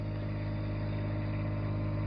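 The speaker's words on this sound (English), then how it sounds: "It's an 8 kilowatt Onan quiet diesel. And so that gives you, this is what you can hear running in the background." An 8 kilowatt Onan quiet diesel generator runs at a camp, a steady low droning hum with strong harmonics, constant and unbroken, close by with no talk.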